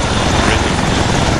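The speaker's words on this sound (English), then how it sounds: "you have to get back in helicopter" Loud, steady rotor and engine roar of a helicopter in a co-op military shooter game, filling the whole moment at close range with no break or talk.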